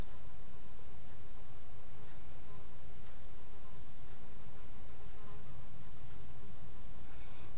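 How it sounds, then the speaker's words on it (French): A fly buzzing close around someone outdoors on a sunny day, a steady insistent drone that shifts slightly in pitch as it circles, filling the whole stretch with no talking. "J'ai une mouche qui me tourne autour là, c'est agaçant."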